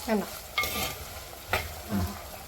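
A spoon stirs seer fish pickle in a pan of sesame oil with crushed skin-on garlic and green chillies, giving four distinct scraping strokes over a light, steady sizzle, close and alone.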